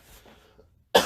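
A single sharp, close cough bursts out at the very end after a stretch of near-silence and faint low murmuring.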